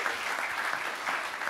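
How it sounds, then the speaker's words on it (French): An audience at a talk on attracting talent and transforming organisations applauds in a dense, steady wash of clapping, loud and sustained throughout. "Je propose qu'on applaudisse Gabriel et Antoine"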